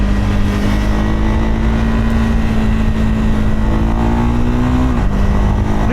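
A Husqvarna Vitpilen 401 motorcycle engine drones steadily at high RPM, then makes a quick upshift near the end, with a brief dip in pitch. The sound is loud and continuous, with no talk.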